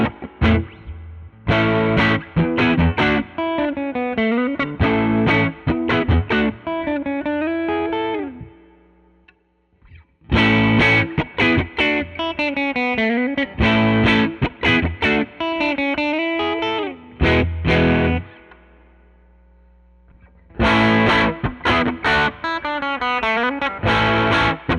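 Electric offset Broadcaster guitar played through a Benson Chimera amp plugin with volume near 4 and tone centred, with reverb, strummed chords and picked phrases in several bursts separated by brief silences, starting on the neck pickup.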